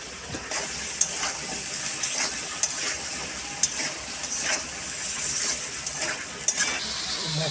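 Potato pieces fry in hot oil with salt and turmeric, a steady loud sizzle with occasional scraping stirs and small clinks from the pan.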